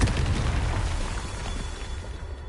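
A Confringo spell explosion in a video game: a loud, rumbling blast already underway at the start that fades gradually into a low, diminishing roar, with no speech.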